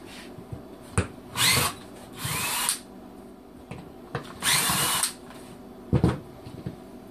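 A power drill backs bolts out of a knife bevel jig with a recessed nut, short whirring bursts of one to two seconds repeating several times with clicks and handling knocks between them, close and loud.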